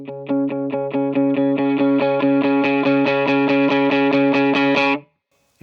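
An electric guitar chugs palm-muted eighth notes on a D with a droney tone, heavy reverb and lots of delay, a steady even rhythm that stops abruptly and leaves a brief echoing tail.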